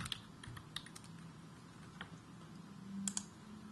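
Typing on a computer keyboard while entering an HTML page title, heard as scattered soft key clicks with a few sharper taps near the end over a low steady hum, with no talking.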